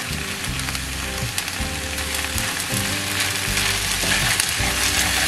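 Potatoes and vegetables stirred and braised in oil in a pan, giving a steady, close frying hiss throughout, with a low tonal hum running underneath.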